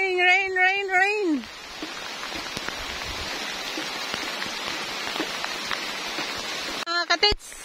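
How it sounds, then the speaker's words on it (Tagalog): Steady rain patters down in a forest, broad and continuous, after a brief stretch of someone singing at the start; a short vocal burst returns near the end. "Oh, it's raining, rain, rain, rain."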